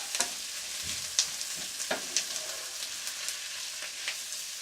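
Four large onions softening and starting to brown as they fry in a pan for French onion soup, giving a soft continuous sizzle broken by occasional spatula scrapes and taps.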